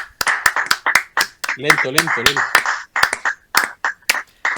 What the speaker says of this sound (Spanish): ¡Ah, los aplausos!